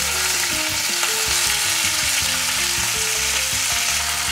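Choy sum sizzles in hot oil in a pan for a Vietnamese-style dish: a loud, continuous frying hiss with crackles, close up and steady throughout, with no voices.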